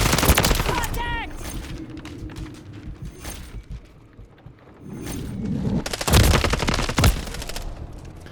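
Call of Duty Modern Warfare 3 gameplay fills with bursts of rapid automatic gunfire and sharp single shots, loud and close at the start and again near the end, with quieter mechanical sounds between.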